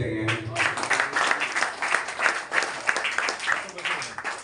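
Hands clapping from an audience at a Tamil public gathering, a loud burst of crowd applause rising quickly and continuing in uneven waves throughout, with some voices mixed in.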